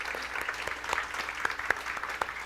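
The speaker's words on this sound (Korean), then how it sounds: "또 박수하도록 하겠습니다" Applause from a middle-school church worship congregation, a light, patchy smattering of claps with a few sharper individual hits standing out, steady and moderately close for a couple of seconds.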